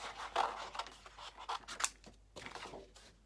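Scissors cut out a stamped paper image for an art journal page, making soft, close snips and crisp paper rustles in a quick, uneven sequence, alone and fairly quiet.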